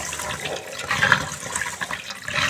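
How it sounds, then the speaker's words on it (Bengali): Rice is washed in water, a short stretch of close sloshing and running water with light splashes. "আমি চাল ধুয়ে দিই"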